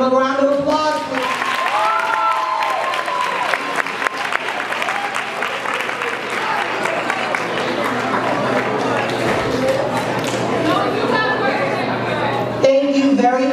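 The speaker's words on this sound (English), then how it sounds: "Give them a round of applause, please." Audience applause at a poetry recitation contest, sustained clapping mixed with crowd chatter and voices, fairly loud and close throughout before tapering at the end.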